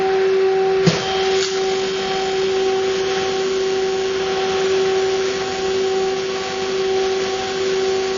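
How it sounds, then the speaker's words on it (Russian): Argon welding on a leaking car air conditioner pipe beside a diesel engine gives a steady, continuous electric hum with a tonal whine, heard up close and alone, with a short sharp crackle near the start. "будет происходить сварка."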